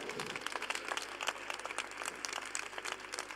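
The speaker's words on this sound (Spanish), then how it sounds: "Un gran aplauso para nuestra compañera." Crowd applause at an outdoor political rally in a public plaza, dense steady clapping from many hands filling the whole stretch at moderate distance, with no speech over it.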